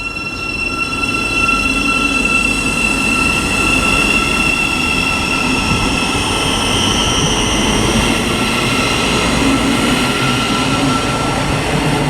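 A train runs through Luton Airport Parkway station on the Midland Main Line, a loud, steady close rumble with high wheel squeal and ringing tones sustained throughout, no voices.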